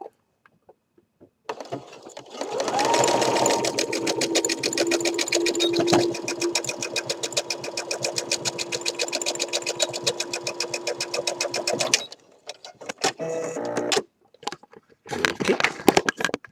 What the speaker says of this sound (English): you are watching it with the sewing machine still